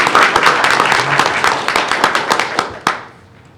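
An audience at a regular school board meeting applauds, a burst of scattered hand claps that thins out and fades to quiet near the end.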